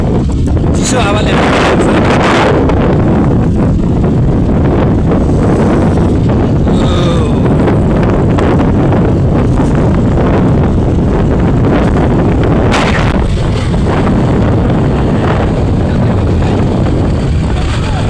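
Cold wind roars into the microphone during a motorbike ride around Pokhara, a loud, constant buffeting rush that lasts throughout with no talk.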